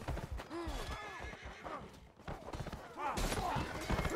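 Horse neighs and whinnies with clip-clopping hooves in the medieval combat game Mordhau, several calls over steady hoof beats, fairly loud and close, with someone talking over part of it.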